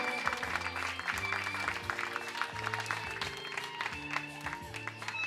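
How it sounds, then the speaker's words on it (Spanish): At a quinceañera celebration, guests clap for chambelán Cristian Camacho as he is welcomed, a lively crowd of hands mixed under loud party music that plays throughout. "Un fuertísimo aplauso para él"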